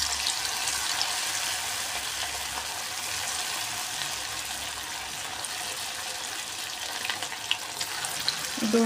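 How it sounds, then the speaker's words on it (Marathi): Spiced paneer cubes for paneer 65 deep frying in hot oil, a dense, even sizzle that holds steady and close throughout, with a few small stirring clicks near the end. "तर आपण आता तेलामध्ये पनीरचे हे क्यूब्स घालून तळून घेणार आहे"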